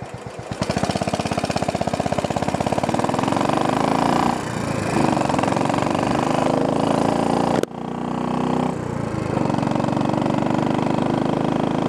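Royal Enfield motorcycle engine idling at an intersection, a close, steady thumping chug with brief dips in level and no talk.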